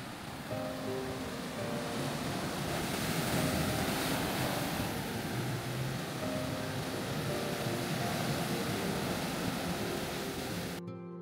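Continuous rushing surf of ocean waves with wind noise, loud and steady throughout, no voices.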